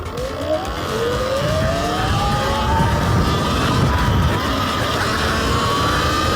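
A Surron Ultra Bee electric dirt bike ridden in its lowest eco power mode, giving a steady loud motor whine that rises in pitch as it accelerates, with continuous wind and rolling noise throughout.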